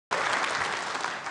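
Sudden burst of dense audience applause at a UK Conservative Party leadership conference, loud and sustained from the start with many hands clapping together, no speech over it.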